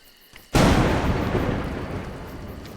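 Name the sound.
thunder in the video game A Juggler's Tale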